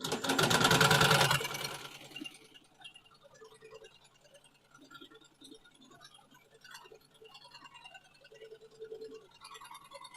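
A Melco Summit embroidery machine stitching on the bill of a hat gives a loud, dense mechanical whir at the start that stops after about two seconds, followed by quiet clicks and low rumbles.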